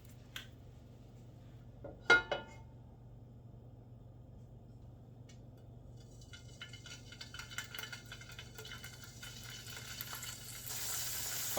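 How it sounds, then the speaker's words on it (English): Venison inner loin sizzles in olive oil in a frying pan, beginning as quiet near-silence with a few clinks, then a faint, steady crackling hiss that slowly builds to the end. "Got a nice sizzle going on in there."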